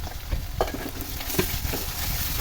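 Meat masala with turmeric and cumin powder being stir-fried in a pan, a constant close sizzle with scraping and clanking of the spatula through the spices, and no voices.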